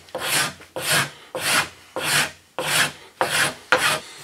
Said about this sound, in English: this particular rasp really makes quick work of that, and just gets them smoothed out for you